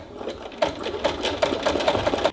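A domestic sewing machine stitches zigzag embroidery in a quick, regular run of mechanical clicks and whirring, close up and without speech.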